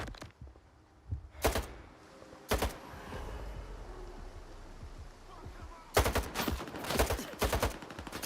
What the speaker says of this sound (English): That is an accurate shotgun.